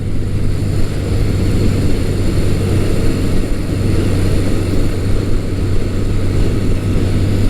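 Yamaha XS1100 motorcycle engine under way, heard as a steady low droning hum with rushing wind noise and no change in pitch or loudness throughout.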